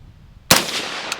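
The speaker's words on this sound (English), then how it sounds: "And then the JK Armament can. All right. Again, 3 rounds off into the dirt." A single suppressed gunshot from a JK Armament suppressor, fired into the dirt outdoors: a sudden loud muffled crack with a short, dull trailing thump, preceded by near silence.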